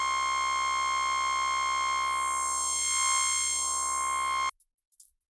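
A dog toy squeak sample reshaped in the FL Studio sampler into a sustained buzzy bass tone that drones loud and steady, with a sweeping filter effect, then cuts off abruptly and leaves a few faint clicks.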